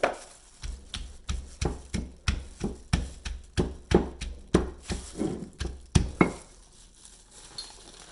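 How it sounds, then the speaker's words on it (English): Long green beans pounded in a mortar for Thai papaya salad, a steady run of about sixteen close, dull thumps at a regular rhythm, each hit sharp and woody, with no talking. "The beans are a bit more tough, so we pound them first"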